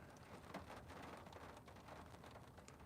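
Steady rain patters on and around a parked car in Gillette, Wyoming, a dense, even wash of drops held at one level throughout, with no talk over it.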